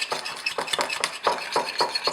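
A spoon stirs yogurt-based curry sauce with lamb and broccolini in a pot, producing a quick regular rhythm of wet scraping strokes, about four per second, close and moderately loud with no talking.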